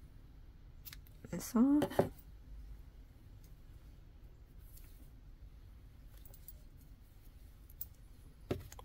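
Scissors snip yarn off a crochet teddy bear, a short cluster of close, crisp cuts amid quiet handling, with a soft voice speaking briefly.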